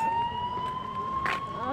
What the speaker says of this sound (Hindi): यहाँ पे सिर्फ एम्बुलेंस जा रही है या फिर पुलिस की गाड़ियाँ।